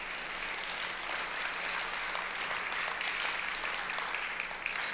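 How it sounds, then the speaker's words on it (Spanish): A church congregation clapping in praise, a sustained wash of many hands applauding at moderate distance, even and continuous throughout. "Denle un aplauso a nuestro Dios."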